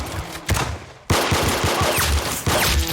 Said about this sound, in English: Good shot, Lee. Nice headshot. Very good shooting